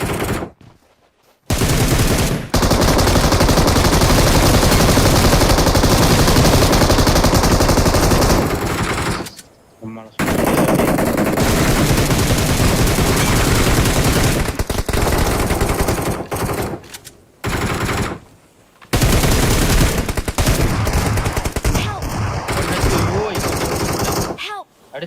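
Rapid bursts of automatic gunfire from a mobile shooter video game, loud and nearly continuous for long stretches with a few brief silent gaps, while players talk over the shooting.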